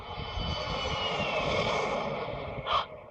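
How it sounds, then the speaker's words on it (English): Roaring aircraft-style engine sound effect for a jet copter firing up in a comedic Christmas pantomime, a steady loud whoosh and whine with a brief swell near the end. "Christopher, fire up the jet copter."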